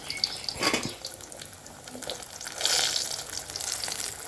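Pea-stuffed kachori frying in oil in a kadai, with a soft continuous sizzle and light bubbling, a few faint scrapes as the pastry is nudged around the pan.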